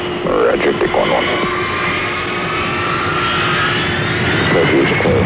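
Strategic Air Command military jet aircraft taking off, a loud steady roar with a rising whine, heard alongside radio-style voices of tower clearance talk.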